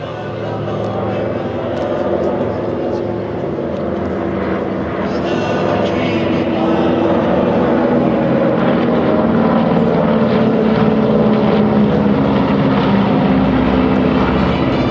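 A Douglas DC-3 propeller airliner flies an airshow display at Villaroche Airfield, its radial engines droning steadily and swelling slightly in loudness as it passes, with an announcer talking over the sound.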